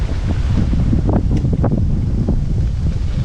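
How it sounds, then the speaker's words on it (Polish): Steady wind buffeting a microphone, a loud continuous low rumble with gusty rustling throughout and no voices. "Wiatr wieje, ciekawe jak będzie słychać."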